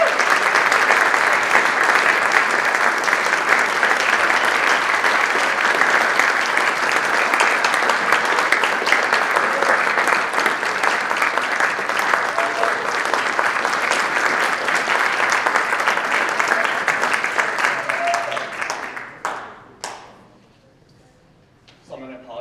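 Sustained, loud applause from a crowd at a community breakfast celebrating Belchertown High School students, steady clapping for nearly twenty seconds before fading into a few scattered claps and quiet.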